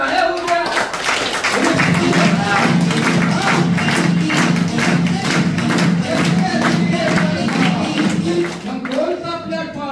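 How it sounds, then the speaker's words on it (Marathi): A seminar audience applauds loudly, with dense, rapid clapping that fills the room for several seconds. Crowd voices and cheering mix in before the applause fades toward the end. "मग त्या फायटर साठी एकदा जोरदार टाळ्या होऊ द्या."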